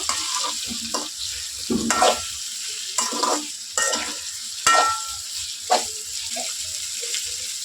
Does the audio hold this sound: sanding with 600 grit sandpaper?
no